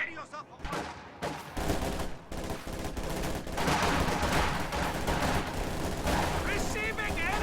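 Heavy gunfire in a real-time strategy game battle: dense machine-gun bursts, rifle shots and booming explosions in a continuous, loud barrage, with game voice lines speaking over the combat.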